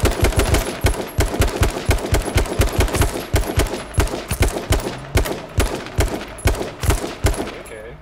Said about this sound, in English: I shot so many people, they're all bleeding.